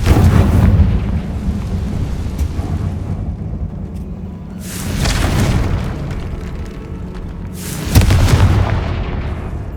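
Confringo explosive spell in Hogwarts Legacy going off three times, each a heavy booming blast with a rumbling tail, spaced a few seconds apart and loud, with no talk over it.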